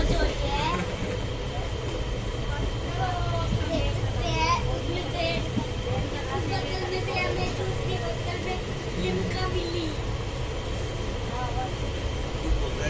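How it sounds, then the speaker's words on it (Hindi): Steady low rumble of a fast-moving train near Rohtak and Bahadurgarh with continuous broadband noise, children's voices and chatter mixed in throughout. "ट्रेन बहुत ज्यादा तेजी से चलती है ट्रेन."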